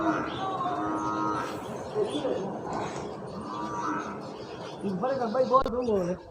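Nili Ravi buffaloes on a Pakistani dairy farm, several deep drawn-out moos rising over ambient barn noise, with someone talking throughout and occasional bird coos in the background.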